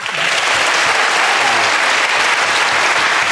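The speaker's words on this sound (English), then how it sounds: "So a round of applause for the seconds." Sustained studio audience applause at a panel game show, a dense, loud wash of clapping that holds steady throughout.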